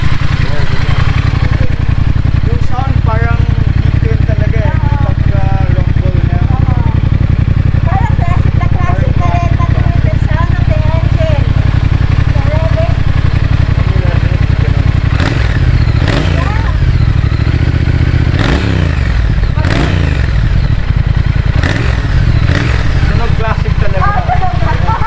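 A modern Triumph Speed Twin 1200 motorcycle sits running loud and close with a steady low idle. Later the starter cranks in several short bursts as the engine catches and revs briefly, while someone talks throughout.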